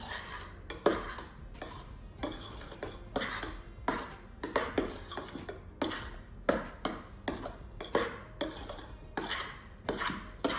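Vanilla essence is folded into cake batter in a bowl, heard as a rhythmic series of light scraping and clinking strokes of utensil against the bowl, quiet and close with no voices.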